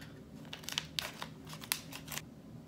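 Scissors snip through a military MRE food packet, giving a few short, crisp cutting and crinkling sounds close by over a low background hum.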